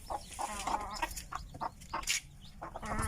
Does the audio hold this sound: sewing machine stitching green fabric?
no